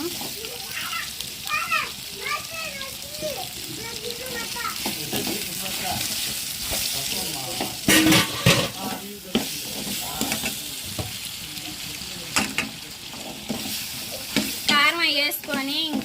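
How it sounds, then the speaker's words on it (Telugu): Chicken bones fry with turmeric and chili powder while being stirred, giving a steady close sizzle with scraping stir strokes and occasional louder bursts, as a voice and other voices chatter intermittently in the background. "మనకి ఈ ఎముకలు అనేది బాగా ఫ్రై అవ్వాలి కదండి"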